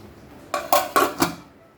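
A lid goes onto a pan of ridge gourd cooking for Goan ghosalyachi bhaji, giving four quick, close metallic clanks and rattles before it settles into quiet.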